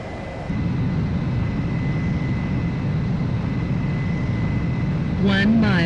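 Steady aircraft engine roar from a jet on landing approach in Ace Combat 04, even and sustained with a faint high whine throughout, joined near the end by a voice over the noise.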